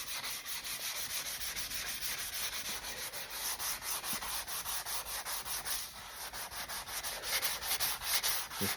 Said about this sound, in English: a little bit of the sanding in the video